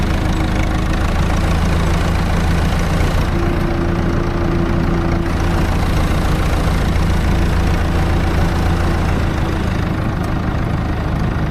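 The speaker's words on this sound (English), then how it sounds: "now I want to get this tractor up here" A tractor engine idles loud and close, a steady low chugging drone with a constant mechanical knock and a faint tonal whine, running unbroken throughout.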